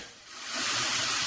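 A burger patty sizzles in a pan with a brief hiss that swells quickly and stays loud and close.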